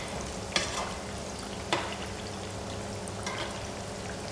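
Plantain pieces fry in a pan with a steady, soft sizzle and bubbling. A few brief scraping stirs cut in close by, with no voices.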